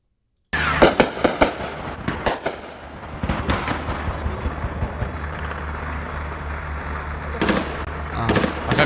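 Gunfire from fighting in Rostov, played back on a screen: sharp, loud bursts of shots at the start, then a continuous noisy din with scattered cracks and another cluster of shots near the end, with voices faintly present.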